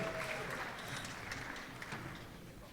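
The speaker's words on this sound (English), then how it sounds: "And you applaud yourself again" A crowd applauding at a string music performance, faint and distant, a continuous soft wash of clapping with no talk over it.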